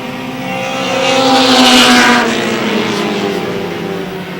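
Race cars in a three-car battle for fifth place during an MSM auto race, roaring past in a loud Doppler swell that peaks mid-pass and fades, engines droning steadily.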